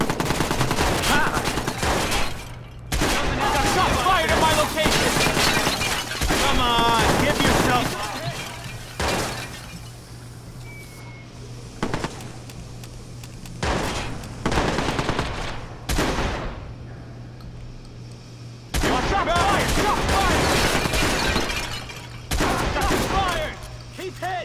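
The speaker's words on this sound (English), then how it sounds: "Call out shots, shots fired!" Heavy automatic gunfire and shattering in a Watch Dogs video game shootout, coming in loud dense bursts separated by short lulls, with shouted voices between volleys.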